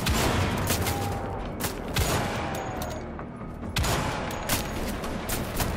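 Sniper rifle gunfire in the video game Wolfenstein: The Old Blood, a series of sharp cracking shots spaced irregularly over a dense, noisy battle background, loud and close.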